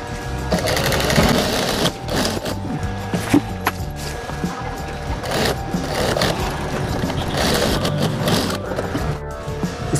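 Sewing machine stitching a tape strip onto a homemade dhol bag for strength, running steadily for the whole stretch with a busy mechanical whir and clatter, close and loud, with no voices.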